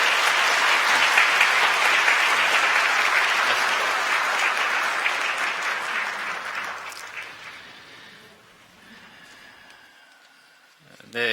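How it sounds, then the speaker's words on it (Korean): A church congregation at a Sunday service at Kyungdong Church applauds in welcome, a full, dense round of clapping that holds steady, then thins and fades out after about eight seconds into near quiet. "여러분들 환영의 박수 부탁드리겠습니다."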